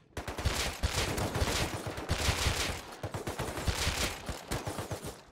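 Dense gunfire in the survival game Rust rattles out in rapid, overlapping bursts of close, loud shots that barely pause for the whole stretch.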